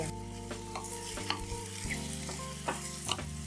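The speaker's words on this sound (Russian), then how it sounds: "Добавляю их к обжаренному луку и также жарю до легкого золотистого цвета на среднем огне" Mushrooms and onion sizzle steadily in a hot pan over medium heat while a utensil stirs and scrapes occasionally, with a low electrical hum underneath.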